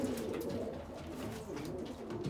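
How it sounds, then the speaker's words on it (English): A racing pigeon coos softly in a breeding loft, a low steady burbling call repeating across the short stretch with faint rustling behind it. "Beautiful pigeon."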